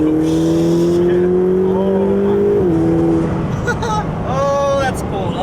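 A 2020 Ferrari 488 Pista accelerates hard, its engine note climbing steadily through a gear change with a brief dip, loud and close from inside the cabin as people talk over it.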